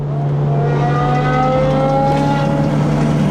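A modified BMW F30 335i with an N55 engine hums loudly and then revs, its pitch climbing and falling close by.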